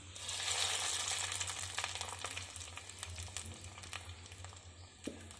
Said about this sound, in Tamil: முந்திரி திராட்சை எல்லாம் வறுத்து கொட்டியாச்சு